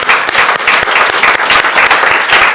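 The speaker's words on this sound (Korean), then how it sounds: "박수로 하나님께 영광을 올려드립니다." A church congregation claps steadily through a Sunday morning worship service, dense, loud applause filling the sanctuary without a break from start to finish.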